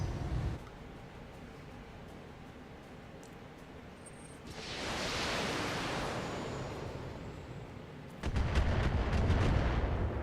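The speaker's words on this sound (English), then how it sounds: "there's another turret shooting at us" A turret fires on a mech in the BattleTech video game: rumbling low blasts and a rushing burst of noise swell and fade, followed by a sudden heavy boom with crackling impacts, loud against a constant background roar.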